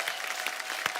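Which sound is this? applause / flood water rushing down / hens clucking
applause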